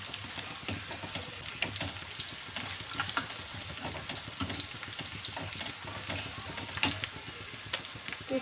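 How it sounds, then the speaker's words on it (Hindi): Chopped onions sizzle in a hot tadka tempering pan, a continuous close crackle and hiss with scattered pops and stirring scrapes, no talk over it. "तो ये देखिए प्याज अच्छे से भून गई है"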